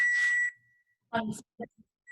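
A kitchen timer gives a short, clear electronic beep while homemade pasta cooks, fading out and followed by brief bits of nearby talk.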